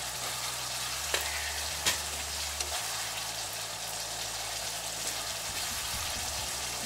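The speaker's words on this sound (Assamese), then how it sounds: "খুব ভালকে ভাজিব লাগিব মছলাখিনি" Constant sizzling of spice masala with turmeric frying with potatoes in a pan, punctuated by a few sharp taps and scrapes of a utensil early on.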